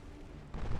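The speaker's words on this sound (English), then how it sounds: "Vladivostok firing armor piercing" Warship main guns firing armor-piercing shells in a naval battle from Ultimate Admiral Dreadnoughts, Russian battlecruiser Vladivostok against Spain: a low rumble, then a sudden heavy boom swelling loud for the last part.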